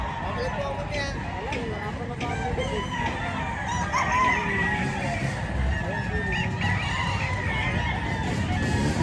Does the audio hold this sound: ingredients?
no